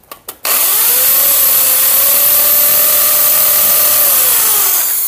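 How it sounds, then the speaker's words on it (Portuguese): An electric drill bores into wood while running off a solar battery bank. A couple of quick clicks come first, then the motor whines steadily and loudly for nearly five seconds before winding down. "Vou ligar aqui a furadeira."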